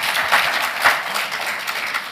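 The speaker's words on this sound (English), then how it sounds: "And can you give a clap?" A conference audience claps together in a dense burst of applause, loud and continuous, with a couple of brief swells in the middle.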